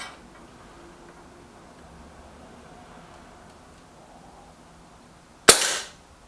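A single sharp air rifle shot from a Lee Enfield Sentry or Artemis M11 cracks loudly near the end of a quiet stretch, with a short decaying tail.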